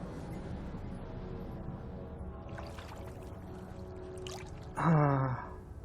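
Water poured beside a well in the video game Brothers: A Tale of Two Sons, with a bag dripping. A soft trickling runs under low background sound, then a brief, louder splashing pour near the end.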